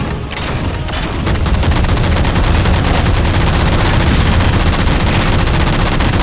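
Dense, continuous gunfire in Halo 4 roars without a break as jammers are shot down, loud and close, with rapid overlapping shots and booms filling the whole stretch.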